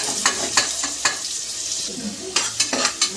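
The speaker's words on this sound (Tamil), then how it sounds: "கோல்டன் கலராக வர அளவுக்கு நம்ம நல்லா ஃப்ரை பண்ணிக்கலாம்." Two finely chopped onions fry in hot oil, a close, continuous sizzle broken by several sharp scraping and tapping strokes as they are stirred in the pan; no one speaks.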